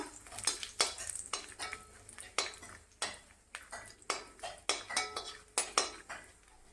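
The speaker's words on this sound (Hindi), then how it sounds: "ये बादाम को हम लंबा लंबा पीस काटे हैं, इसको डाल देंगे घी में। डाल करके 10 सेकेंड तक ले भुनेंगे।" Sliced almonds are stirred in ghee in a pan over a medium gas flame, with a spoon scraping and clinking against the metal in a quick, steady rhythm and a faint sizzle underneath.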